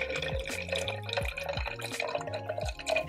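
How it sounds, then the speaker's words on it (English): Water poured into a ThermoFlask bottle holding ice, a gurgling, rising fill with hollow plinks and glassy drips repeating in uneven bursts, close by and moderately quiet. "then we're gonna fill in some water"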